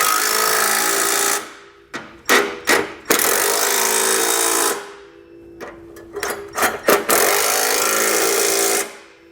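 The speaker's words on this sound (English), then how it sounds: "We can now take our 9/16 socket and go back and tighten them all down." Bolts on a Blue Ox base plate kit for a 2013 GMC Terrain being tightened with a 9/16 socket: three loud, sustained whirring runs of a driver, separated by short clicks and clanks, with no talking.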